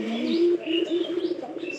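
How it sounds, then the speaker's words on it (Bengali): A pigeon from loft number 4 gives a short, close, tonal call that wavers for under two seconds, with no one talking. "এটা আমার 4 নাম্বার ঘরের কবুতর"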